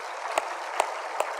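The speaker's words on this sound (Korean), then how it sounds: "박수 쳐 하나님께 영광합니다." Church congregation clapping during a Sunday service, heard as three evenly spaced sharp claps over a steady background hum, fairly faint and unaccompanied by talk.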